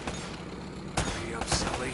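Gunfire in the video game Uncharted: Drake's Fortune, a couple of sharp bursts around the middle and end of a short stretch over a steady noisy bed of game sound, with faint voice-like sound mixed in.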